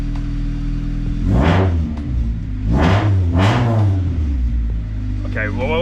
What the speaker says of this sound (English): a little rev because we like revs.